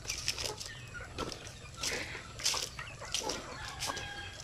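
Small chickens in a farm range area cluck in short repeated bursts, close by, with a steady low rumble underneath and no talk.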